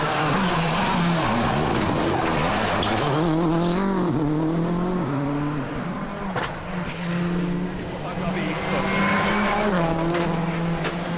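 A 2006 Tour de Corse WRC rally car races on a tarmac stage. Its engine howls loud and close, rising and falling through the gears over a constant rushing roar.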